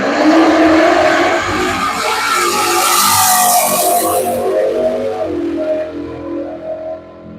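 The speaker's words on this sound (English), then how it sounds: "Yeah, this Camaro sounds good." A Camaro race car engine at a drag strip roars loudly, revving high and sweeping past before fading slightly at the end.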